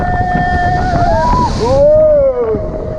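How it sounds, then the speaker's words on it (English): Manta roller coaster at SeaWorld Orlando sweeping through its shallow fake splashdown from the front row: a rushing whoosh of air and water spray builds to a brief surge, with excited voices and whoops over it. "Little fake splashdown."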